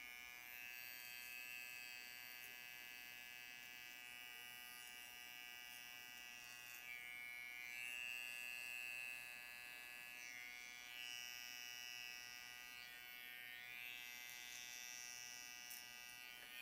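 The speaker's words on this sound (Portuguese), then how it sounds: "A máquina que eu estou usando é uma Detailer Gold da UOL, uma máquina excelente." Detailer Gold hair clipper buzzes steadily at close range while trimming hair during a fade haircut, with a constant electric hum and slight shifts as it moves.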